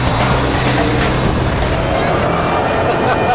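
A 2007 Ford Shelby Cobra GT500, with a supercharged 5.4-litre V8 using Ford GT cylinder heads, drives under a loud, steady engine roar, while someone talks over it.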